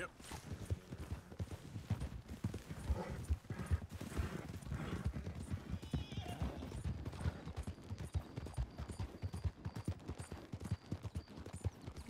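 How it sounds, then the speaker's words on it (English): Wild horses gallop in the Red Dead Redemption 2 open world, their hooves drumming in a fast, irregular clatter of clip-clops with an occasional whinny, moderately close, while a player talks over them. "Or wild horses."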